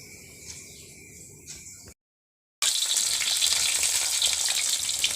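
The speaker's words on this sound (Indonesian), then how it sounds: "kita panaskan minyak secukupnya untuk menumis semua bumbu-bumbu irisnya ini ya" Sliced spices drop into hot oil for sautéing, and after a moment of silence a loud, dense, continuous sizzle erupts close by.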